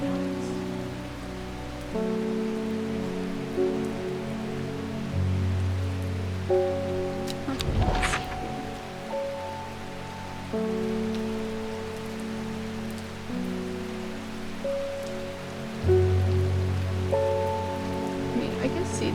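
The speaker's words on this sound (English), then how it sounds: "Oh, it's raining." Rain falls steadily in the video game Strange Horticulture, a soft continuous patter layered under a quiet musical drone, with a person briefly speaking over it.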